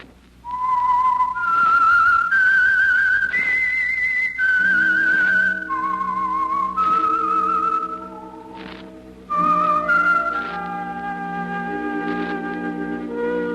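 Whistled theme melody of The Whistler, a 1946 radio mystery drama, carries a clear, wavering tune above soft orchestral accompaniment, with phrases rising and falling continuously and no talking.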